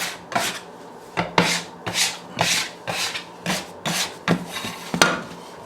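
A bench scraper rasps across a flour-dusted table under ciabatta dough in about nine short, rhythmic scraping strokes, close and clear with no talking.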